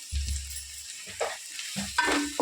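A spiced chicken pulao mixture with pepper powder and salt is stirred in a pan, making quiet scraping strokes and soft sizzling with a few louder utensil knocks, with no talking.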